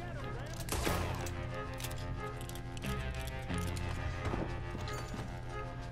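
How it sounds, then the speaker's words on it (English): Gunshots ring out in a video game, a few sharp reports spaced apart over a busy, continuous background of game sound. "Nothing else to do but keep on shooting him in the stomach."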